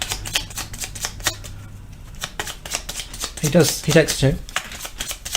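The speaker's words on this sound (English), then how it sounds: "so he's got no draw pile, so I have to shuffle" Playing cards riffled and shuffled during a two-player Architects co-op tabletop game, a quick run of crisp flapping bursts at close range, with a voice talking briefly over the shuffle.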